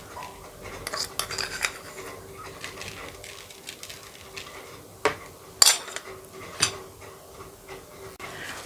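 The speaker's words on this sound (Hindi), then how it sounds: "नमक गोश्त के ऊपर लगाकर मैं इसे अच्छी तरह मिक्स कर लूँगी" Lahori salt is mixed into mutton in a cooking pot, with scattered spoon-on-metal clinks and scrapes, a few sharp knocks standing out, over a quiet room background.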